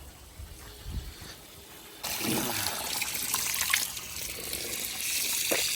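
Water draining and trickling from a tank holding caught rainbowfish outdoors, a steady close pour that starts abruptly and runs on as a continuous gushing wash.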